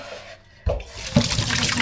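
A tap gushes into a sink for hand washing, water starting abruptly and then running steadily and fairly loud, with a small splash as the flow shifts.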